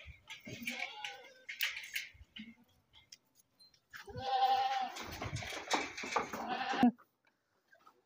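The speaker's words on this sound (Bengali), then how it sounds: "ছাগলটি দেখুন কত সুন্দর।" A domestic goat bleats in drawn-out, wavering calls at close range, with a short burst early and a longer cry near the end, amid quiet pauses.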